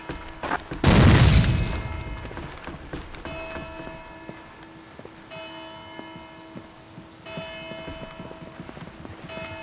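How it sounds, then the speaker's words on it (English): A grenade explodes in the video game Rainbow Six 3 on PS2 with a single loud, close burst that fades within a second, followed by a ringing, bell-like tone and soft scattered clatter. "Grenade!"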